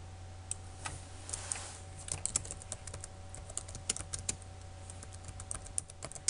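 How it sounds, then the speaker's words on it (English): Quiet, close clicking of keys on a computer keyboard, typed in short irregular bursts over a low steady hum, with no one speaking. "We'll just type it in here."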